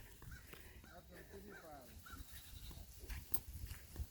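Goats on a farm at feeding time, one bleating a few times amid visitors' chatter and children's voices, with background farm noise throughout.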